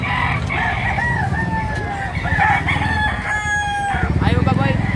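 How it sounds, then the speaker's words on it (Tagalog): Native roosters crow loudly at a poultry market in Baliwag, Bulacan, several overlapping cock-a-doodle-doo calls close by with clucking among the birds. "Ayan o, sa dami ng manok."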